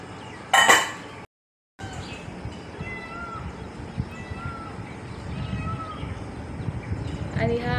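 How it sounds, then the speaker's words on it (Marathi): Peacocks calling from a field just across from a rural home: several mewing, wailing cries repeat at a moderate distance over a low, steady outdoor background, after a brief loud burst and a short gap. "हा मोरांचा आवाज आहे."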